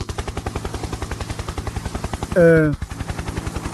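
A helicopter in the Shin Sonic game, with rotor blades giving a rapid, even, loud thumping throughout, briefly overlaid by a short tonal wailing cry near the end.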